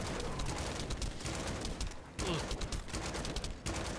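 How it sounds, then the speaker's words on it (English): Rapid, dense gunfire from a sci-fi looter-shooter game, The First Descendant, with sustained bursts crackling continuously across the whole stretch and a couple of brief gaps, loud and close with no talk. "I keep shooting"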